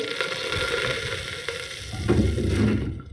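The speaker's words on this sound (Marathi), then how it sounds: "तेलामध्ये वरई टाकून परतून घ्यायची" Barnyard millet (varai) fries in oil in a pressure cooker with a steady close sizzle and stirring scrapes, growing a little louder and denser near the end before cutting off.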